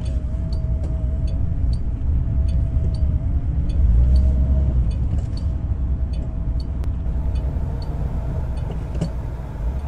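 A 1977 Lincoln Continental, a barn find rescued after 35 years, cruises along with a steady low engine and road rumble heard from inside the cabin, smooth and unbroken throughout.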